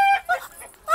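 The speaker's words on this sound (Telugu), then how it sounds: "ఇక్కడెక్కడో కోడి సౌండ్ అనిపిస్తుంది." Chicken clucking in a comedy scene, a few short, close, tonal clucks in quick succession within about a second.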